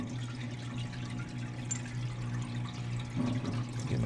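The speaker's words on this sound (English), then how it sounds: "Give them a quick rinse." Honda Odyssey rear brake parts get rinsed under running water in a parts washer, a soft, steady splash and trickle over a constant low mechanical hum, with the flow growing briefly louder toward the end.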